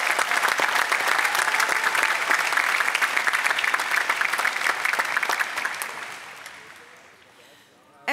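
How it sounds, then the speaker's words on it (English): An audience at a university graduation ceremony applauds ROTC students with steady, dense clapping that tapers off toward the end. "Please join me in a round of applause for them."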